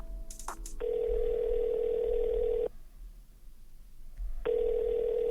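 Phone call being placed: a few quick dialing tones open, then a long steady ringback tone, a pause, and the ring tone starting again, clear and alone with no talk.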